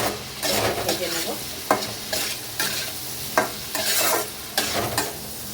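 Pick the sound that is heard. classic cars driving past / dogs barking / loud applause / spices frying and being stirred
spices frying and being stirred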